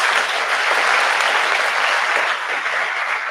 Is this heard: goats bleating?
no